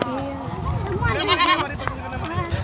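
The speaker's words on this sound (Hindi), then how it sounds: "देखो ये बच्चा सब लाई छे बकरी," Goats, including young kids, bleat repeatedly in an Indian village with wavering, nasal cries that overlap at close range, while people talk in the background.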